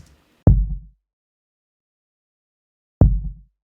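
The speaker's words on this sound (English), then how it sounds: "Kick sounds like this." Two isolated kick drum hits built from room tone and run through a drum bus with saturation, compression and a resonant sub bump, each a deep, short thump with a quick decay, spaced about two and a half seconds apart in silence.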